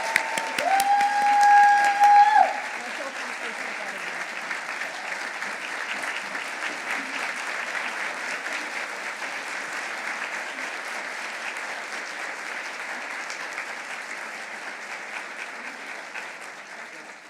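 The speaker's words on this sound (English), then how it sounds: "Let's have a huge round of applause for these amazing leaders." Sustained audience applause at a women business leaders awards ceremony, a louder burst of clapping at the start settling into steady, even applause from a large crowd that carries on for the whole stretch.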